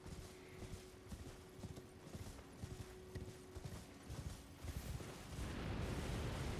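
Horse hooves pounding in a steady gallop during an Elden Ring ride, a continuous rhythmic thudding that builds louder toward the end over a low game rumble.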